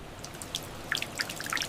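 Rain drips in an old Saigon alley at night around 2000, scattered drops tapping irregularly and close over a low, soft background wash.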